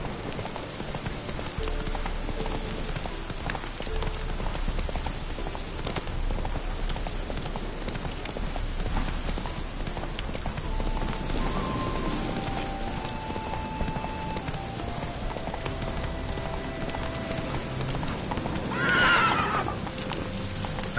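Roach the horse gallops through rain in The Witcher 3, hooves clip-clopping in a steady beat over a soft hiss of rain, with a neigh rising near the end.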